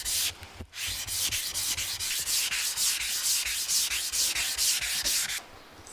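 A lacquered plate is polished by hand in long, regular rubbing strokes, a dry rasping swish repeating about twice a second, close and clear with no voices.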